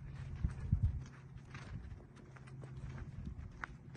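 Quarter horse foals sired by Dash walk nearby, their hooves making faint, uneven clip-clops that are strongest in a short cluster early on and then fall to scattered soft steps.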